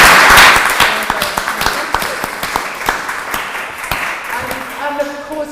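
An audience at an academic freedom event gives a round of applause for an organiser, dense clapping from many hands that starts strong and gradually thins and fades, with a voice speaking faintly near the end.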